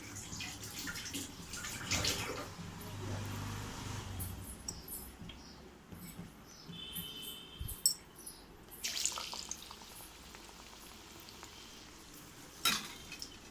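Raw banana bajji, battered slices of raw plantain, frying in hot oil with a soft, steady sizzle and bubbling, broken by a few brief clatters from handling the pan.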